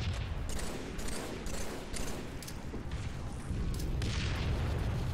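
Rocket explosions and gunfire rumble through a Halo 3 multiplayer match, a dense, continuous wall of loud booms and blasts with no clear gaps.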